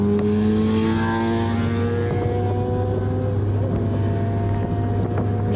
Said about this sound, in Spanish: Una moto.